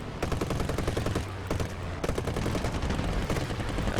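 Aircraft machine guns in the War Thunder air battle game fire in dense, steady bursts through the whole stretch, loud and close, with a brief lull partway and no talking.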